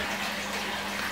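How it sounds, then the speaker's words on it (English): Fresh water running steadily through a connecting hose into a six-foot aquarium during a large-tank water change, a continuous close rushing flow with a low hum beneath, alone. "new water is going to come in here like so, and it's going to run through this connecting hose back to the 6-foot"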